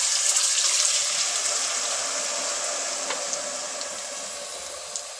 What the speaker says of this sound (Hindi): देखिए 1 गिलास पानी डाल दिया है।